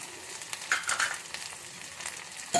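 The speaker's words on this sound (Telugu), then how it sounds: "ఇప్పుడు అల్లం పేస్ట్ కూడా కొంచెం వేగినట్టు అయింది కదా ఈ మామిడికాయ ముక్కలు వేద్దాం" Raw mango pieces dropping into ginger paste frying in a pan, giving a soft steady sizzle with brief louder bursts of stirring and a sharp clatter near the end.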